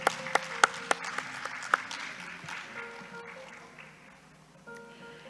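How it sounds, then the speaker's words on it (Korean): Conference audience welcoming panelists onto the stage, a few loud, sharp claps up front giving way to softer scattered clapping that fades out, with background voices and some tonal hum. "큰 박수로 맞이해 주시기 바랍니다"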